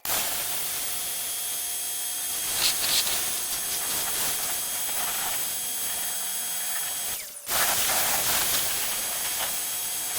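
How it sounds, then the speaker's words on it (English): A pressure washer rinses pre-wash foam off a car with a constant loud, close hiss that briefly drops out, then resumes with the same strength. "Now it's time to rinse it off and see how dirty it is after the rinse."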